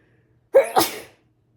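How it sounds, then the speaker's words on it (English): A single loud, close sneeze with a sharp intake and explosive release, then silence. "I sneeze."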